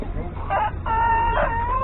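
A rooster crows nearby in a short, strained call, heard over background chatter and market noise at a poultry market in Isparta.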